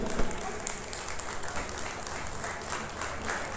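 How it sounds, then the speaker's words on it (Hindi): Audience applause fills a celebration hall at a Haldwani business opportunity event, a steady wash of many hands clapping at moderate distance, continuing evenly throughout with faint crowd noise underneath. "एक बार जोरदार तालियां आप सभी के लिए"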